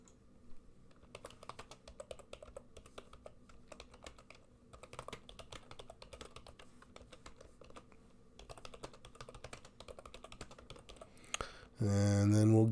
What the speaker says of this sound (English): Let me just type it real quickly here.